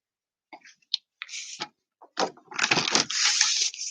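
Paper for card making is cut with scissors in a few short snips, then a longer crisp, crunchy cutting stretch, close and fairly quiet with no talk.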